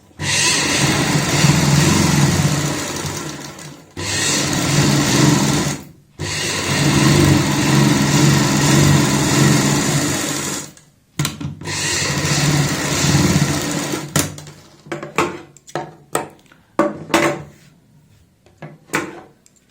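Sewing machine running a line of stitching along the edge of a kurti collar, long loud whirring bursts separated by brief pauses, ending in a series of short stop-start runs.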